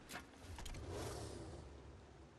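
The Batmobile from Lego Batman drives with a mid-pitched engine surge, a quick rev near the start swelling into a sustained, fairly close motor drone that fades slightly toward the end, with no voices.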